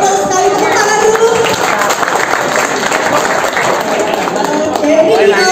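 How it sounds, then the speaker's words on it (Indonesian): Audience applause at the opening ceremony of a FIDE-rated chess tournament, a dense, loud burst of clapping from a crowd that lasts the whole few seconds, with voices mixed in. "Tepuk tangan dulu."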